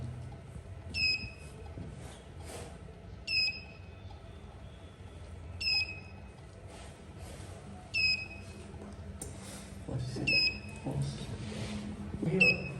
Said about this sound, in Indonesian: alarm masih menampilkan bunyi peringatan dan indikator tetap hidup